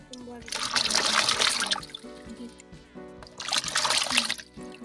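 Leaves being washed by hand in salted water for tubani in an African village, two bursts of swishing, splashing and trickling water separated by a quieter pause, close up, with speech heard underneath.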